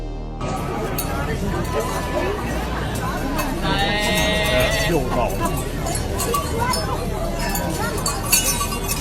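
Sheep bleating at a sheep contest in France, repeated loud calls over a busy crowd murmur with chatter and clinking glass, a steady lively din throughout.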